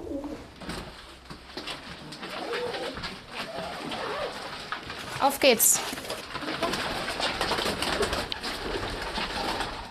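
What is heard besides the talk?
pigeons cooing in a pigeon loft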